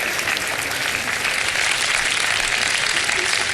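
A TV studio audience claps during a live Ramadan iftar show. The applause is loud, dense and continuous, from many hands at close range, and a voice is faintly heard underneath.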